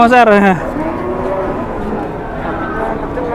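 A loud, close cow moo opens with a drawn-out falling call, followed by a low rumbling background and faint outdoor noise.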